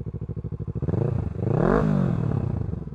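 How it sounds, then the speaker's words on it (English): An unbaffled Kawasaki Z650 parallel-twin motorcycle exhaust thumps at idle, then revs up loudly and drops back to a pulsing idle, close by. "Does sound pretty good without the baffle,"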